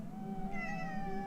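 A cat meows nearby in one drawn-out, rising and falling call over a low background hum.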